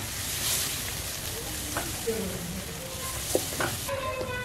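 Beef chops with garam masala powder being stirred in a hot pan: a continuous low sizzle and hiss with a few soft scraping stirs, while a voice talks over it.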